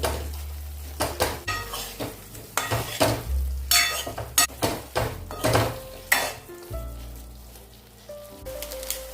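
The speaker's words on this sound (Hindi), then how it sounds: "थोड़ा सा लाल मिर्च पाउडर डालेंगे इसमें, इसे मिक्स कर लेंगे।" Potatoes with red chili powder being mixed in a bowl: a close series of irregular scraping clinks and knocks of a spoon against the dish, sharp and fairly loud, with no speech.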